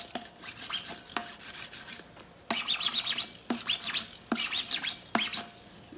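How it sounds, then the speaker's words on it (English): A lint roller rolled along a PYD Life skinny 20 oz tumbler, giving repeated sticky rasping strokes in close bursts with short pauses between, no talking. "The first thing I'm gonna do, I'm gonna lint roll it."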